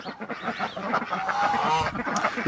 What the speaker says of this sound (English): I think all the ducks are here.